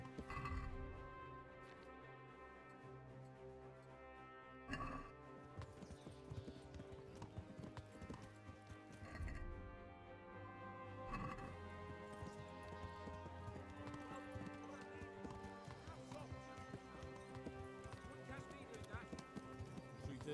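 Horse hooves clip-clop in a steady galloping rhythm while riding in the video game Kingdom Come: Deliverance, close and continuous over game music, with an occasional whinny and a voice talking over it.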